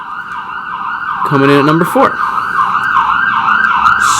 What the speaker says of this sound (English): Excuse the sirens here.